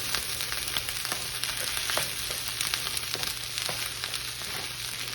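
Fried rice sizzling steadily in a hot pan while a utensil scrapes and knocks against the bottom in scattered strokes, loud and close with no talking.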